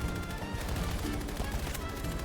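Rapid automatic gunfire in Battlefield 2042, sustained loud bursts filling the whole stretch as shots are sprayed blindly into smoke, with dense crackling and low booms layered throughout.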